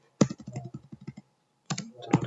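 Quick typing on a computer keyboard while entering database records, two close bursts of rapid clicking keystrokes separated by a short silence.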